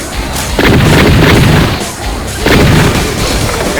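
An automatic shotgun fires in the Left 4 Dead 2 video game. Two loud, booming blasts land about two seconds apart, each with a long, rumbling tail, and the game's background noise continues underneath.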